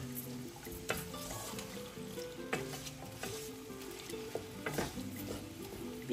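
Onions sizzle steadily in a hot pan with cinnamon and bay leaves while a spoon stirs now and then, giving soft scraping clicks over a constant close frying hiss.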